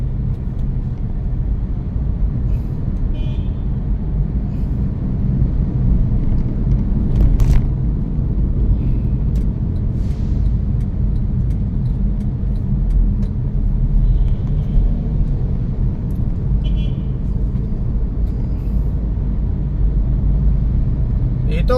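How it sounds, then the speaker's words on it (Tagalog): Traffic on the wide, uncongested Marcos Highway makes a steady, loud road rumble with a constant wash of passing cars throughout. Faint higher sounds occasionally rise above the drone. "medyo mabilis ang takbo ng mga sasakyan"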